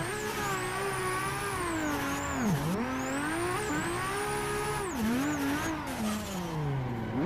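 A racing game car drifts with a sim handbrake and sequential shifter, its engine rising and dipping in pitch through slides, tire squeal sweeping high above the steady roar.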